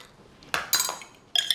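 A metal spoon clinks against a bowl of homemade guacamole during tasting, with three short, bright taps spaced over about a second and a half, close and fairly quiet.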